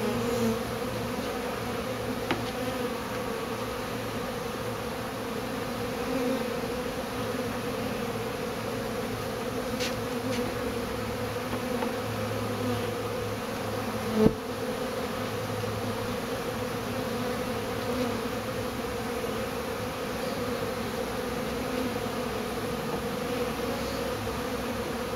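A swarm of bees on a treasure chest produces a continuous, dense buzzing hum at moderate volume, steady throughout with one brief knock.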